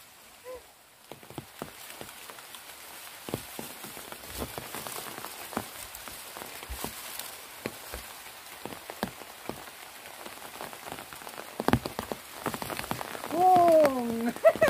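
Heavy rain falls steadily on a surface during a fishing trip outdoors, a continuous patter of close drops with occasional louder splashes and a brief rise near the end.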